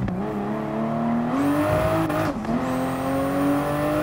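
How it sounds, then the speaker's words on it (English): A 2019 Toyota Supra with max upgrades in GT Sport roars at high revs, its engine note climbing and dipping through gear changes with crackling backfire pops, loud and continuous throughout. "Just non-stop, just backfiring here."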